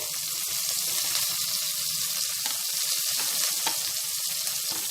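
Chopped green chilies, garlic and curry leaves fry in hot oil in a pan, a loud, steady sizzle that crackles without pause from start to finish, with no voices.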